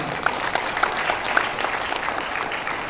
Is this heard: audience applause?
yes